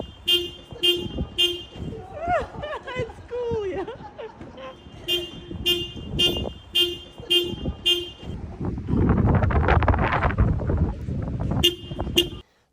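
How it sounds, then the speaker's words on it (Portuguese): A car horn honks again and again in short repeated toots from inside a parked car where a dog waits, with bursts of street noise and some voices between the blasts. "chamou a atenção ao buzinar repetidamente dentro de um carro enquanto esperava sua família voltar"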